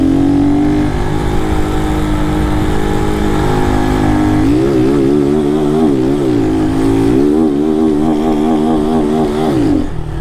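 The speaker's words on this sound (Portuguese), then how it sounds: "Vai dando só aqui na embreagem, ó. Segurando que vai cortar de giro." Motorcycle engine revved hard with the clutch worked and throttle held open, bouncing repeatedly off the rev limiter in a loud, close, stuttering warble with no talk over it.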